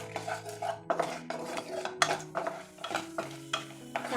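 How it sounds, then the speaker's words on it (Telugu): A spoon stirs and scrapes a tempering of cumin, mustard seeds, chana dal and urad dal in a metal pan, giving repeated close clinks and scraping strokes over a soft sizzle. "కొంచెం జీలకర్ర, కొంచెం ఆవాలు, కొంచెం శనగపప్పు, కొంచెం మినపగుండ్లు వేసుకోవాలండి. వీటిని మనం బాగా వేయించుకోవాలండి."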